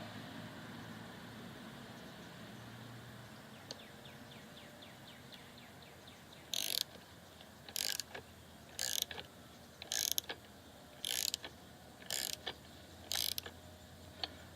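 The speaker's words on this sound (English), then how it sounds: "I'm just going to start tightening." A ratchet tightening the rear strut mount on a Porsche 986 Boxster, heard as about eight spaced bursts of brisk metallic clicking over a low steady hum, close and moderately quiet.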